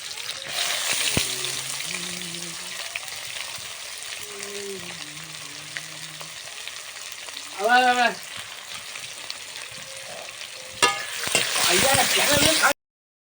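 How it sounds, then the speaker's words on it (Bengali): Oil sizzles steadily as chopped onions fry in a pan for a gram-flour fritter curry, with a voice speaking over it and brief clatters of stirring. "এই সময় পেঁয়াজ কুচিগুলো দিয়ে দিচ্ছি, দিয়ে নাড়াচাড়া করতে থাকবো"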